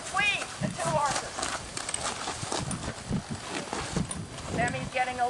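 Morgan horses walking in a pen with mini Zebus, hooves clip-clopping unevenly and fairly close, mixed with shuffling and movement while a person talks over them.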